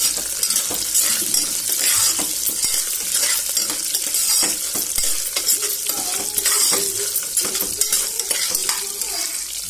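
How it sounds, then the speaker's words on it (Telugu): Tempering spices and onion frying in oil in a pan, a steady close sizzle with repeated stirring scrapes and light clinks of a utensil against the pan, with no talk throughout. "పోపు దినుసులు, ఉల్లిపాయ అన్నీ వేసుకుని మనం ఇలా వేయించుకోవాలి"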